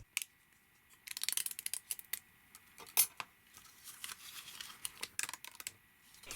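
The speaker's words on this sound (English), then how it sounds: "I really like that clicking sound that it does when it comes off the die." Spiral paper flower shapes popping free of a metal cutting die, giving a quiet run of small, sharp, irregular clicks and snaps close by with no talking.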